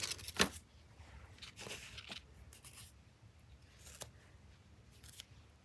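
Scissors snip through sticky, non-shiny material that cannot be torn, with a few sharp, close cuts early on followed by softer rustles and handling noises at low volume.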